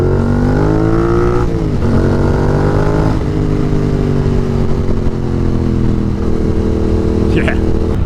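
2018 Triumph Thruxton R motorcycle with shorty cone exhausts: a steady, loud engine drone with gentle pitch dips as it shifts, with someone talking over it.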